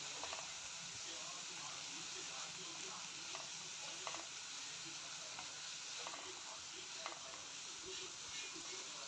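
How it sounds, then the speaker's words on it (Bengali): Turmeric and cumin powder fry in oil in a pan for a mustard-jackfruit dish, a steady close sizzle broken by soft rhythmic scrapes and taps of a spatula as it is stirred. "1 টেবিল স্পুন জিরে গুঁড়ো দিয়ে এখন এগুলি নাড়িয়ে কিছুক্ষণ ভেজে নেব।"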